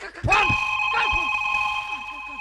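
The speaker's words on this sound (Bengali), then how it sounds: "আমার ফোন এসেছে" A telephone rings during a Bengali gajon folk theatre performance: a steady, piercing electronic tone holds for about two seconds, with voices talking over it.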